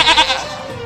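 Livestock goats bleating, a couple of quick loud wavering cries close by, followed by a lower fading tail.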